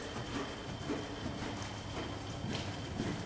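Horse hooves at a working canter during an Elementary 44 dressage test at a riding centre arena, a soft, steady three-beat thudding that stays muffled and fairly distant throughout.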